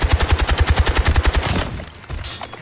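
Loud, close machine gun fire in the Delta Force extraction shooter game, a steady rapid burst of about fifteen evenly spaced shots, then a brief echoing tail and distant rumble.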